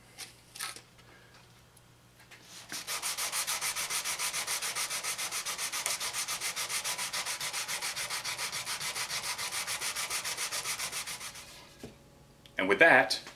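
Steady, rapid back-and-forth sanding scratches on a wooden scarf joint run continuously for about eight seconds, close up, framed by a few brief knocks and handling noises.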